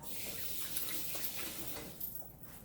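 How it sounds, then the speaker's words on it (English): Tap water runs steadily while someone washes their hands in a home kitchen, a soft continuous splash that shifts slightly near the end, fairly faint and without speech. "Let me wash my hands."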